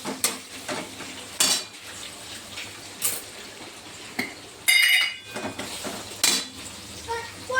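Vegetables are sautéed in a pan, heard as a continuous soft sizzle broken by repeated sharp scrapes and clinks of a metal spoon stirring against the pan, close and fairly loud.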